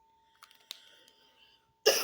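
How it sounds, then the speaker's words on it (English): After a near-silent stretch with a few faint clicks, one sharp, close cough breaks out at the end. "every once in a while, I will cough"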